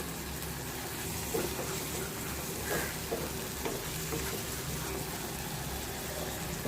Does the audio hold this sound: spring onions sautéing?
yes